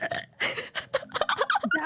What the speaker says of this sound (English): Wait, my rapid fire burp